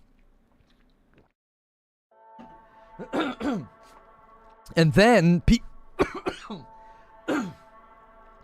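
A few harsh throat clears and coughs break out close to the mic, with a brief spoken phrase mixed in.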